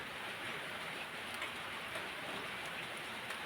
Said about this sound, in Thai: ก็ มันฝนตกลินนะครับพี่ซี ที่บ้านผมฝนตกลิน